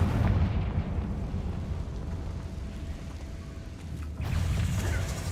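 A Confringo fire spell blast in the Hogwarts Legacy video game, heard as a rumbling, explosive burst that sustains, dips, then swells again near the end.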